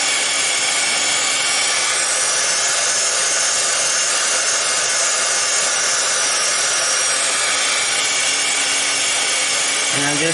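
Heat gun blowing steadily a few inches above clear liquid polymer clay on polymer clay peacocks, a continuous loud broadband whoosh that holds evenly throughout with no break.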